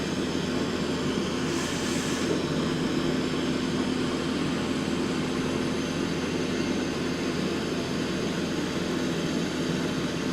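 A Boeing 787-9 cruises in flight in the MSFS 2024 flight simulator, its engines making a steady, even drone that fills the whole stretch with no voices.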